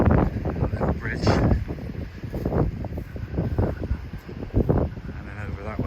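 Blustery wind on a rugged stretch of the South West coast path between Gurnard's Head and Zennor, buffeting the microphone in uneven gusts throughout, mixed with a voice talking over it.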